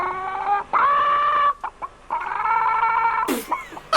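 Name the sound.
person imitating a chicken clucking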